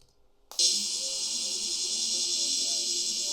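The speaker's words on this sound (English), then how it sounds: "Cicada." A cicada starts abruptly after a brief quiet moment, then holds a loud, steady, high buzzing drone close by for the rest of the clip, with faint low sounds underneath.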